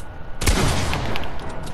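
Gunfire in the Fortnite video game: a sharp burst of shots bursts in after a quiet lead-in, then several rapid follow-up cracks ring out close and loud with no talking.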